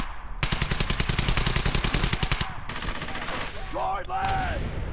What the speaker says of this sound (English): I'll use the Tommy gun.